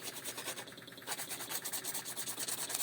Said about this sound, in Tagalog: Is-isin lang natin ng is-isin